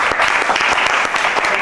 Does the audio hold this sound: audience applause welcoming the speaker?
yes